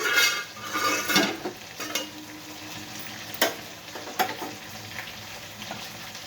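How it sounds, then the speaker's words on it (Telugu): Bitter gourd pieces simmer in a pan for a kurma curry, giving a steady soft sizzle broken by a few sharp clinks and scrapes of a stirring spoon against the pan. "అందులోకి మనం కాకరకాయలు కూడా వేసుకున్నాము ఇది మీద మగ్గ మగ్గ పెడదాము"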